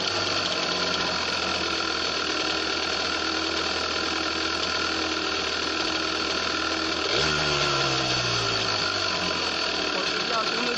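A customised 125cc motorcycle engine drones steadily and loudly at close range, with its pitch shifting partway through as it revs and settles.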